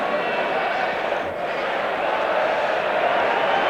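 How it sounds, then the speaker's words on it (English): A large stadium crowd roars steadily as the Wigan and Warrington teams are led out for the 1990 Rugby League Challenge Cup Final, a dense, continuous wash of noise with no break. "when the roar of that crowd goes up"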